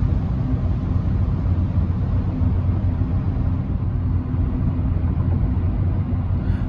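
Hyundai HB20 1.6 automatic holding third gear downhill under engine braking, a steady low engine drone and road rumble, continuous and close without any voices.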